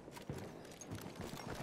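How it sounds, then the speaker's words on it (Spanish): Horse hooves galloping in the video game Battlefield 1, a quick steady run of soft muffled hoofbeats under a noisy game soundscape. "Tenemos un caballo."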